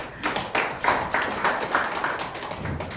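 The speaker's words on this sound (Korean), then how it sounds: "박수 한번 쳐." An audience claps together at a hapkido self-defense demonstration, in a quick, even rhythm of about eight close, loud claps over a noisy room.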